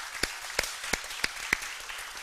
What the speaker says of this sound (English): please join me in a round of applause for the panelists